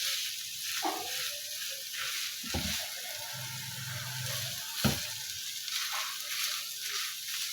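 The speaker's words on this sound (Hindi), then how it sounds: "इस तरह से इसमें चिकन को प्याज और लहसुन में ऐड करके अच्छी तरह से इसे भी" Chicken frying in a pan with onion and garlic gives a steady sizzle, broken by a few louder stirring scrapes. No one speaks.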